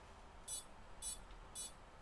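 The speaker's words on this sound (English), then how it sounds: "It's beeping. That's a good sign." Three short, high electronic beeps from an FPV drone sound at an even pace, about half a second apart, fairly faint over a low background hiss.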